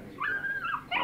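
A dog in a tense dramatic scene gives a high, drawn-out whine that rises, holds and dips, then starts again, faint against a quiet background.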